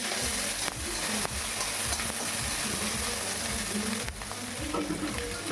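Prawns frying in a little oil in a wok, a dense, continuous sizzle and hiss heard close up, steady and fairly loud with faint stirring beneath.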